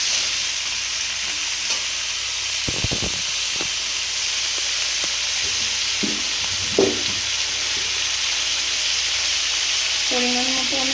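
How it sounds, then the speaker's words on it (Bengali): Ridge gourd and potato fry with cumin in a pan, giving a steady close sizzle throughout, with a few brief stirring clatters and scrapes breaking in partway. "ঝিঙে আলু এর মধ্যে দিয়ে দিলাম। এবার নুন হলুদ দিয়ে এটা ভালো করে ভেজে নেবো।"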